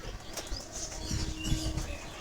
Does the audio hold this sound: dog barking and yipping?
no